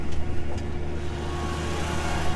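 A farm machine's engine running while driving, a steady mid-pitched rumble with a constant hum, fairly loud and unbroken with no talk.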